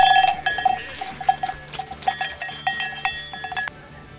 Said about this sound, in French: C'est vraiment des moutons de famille.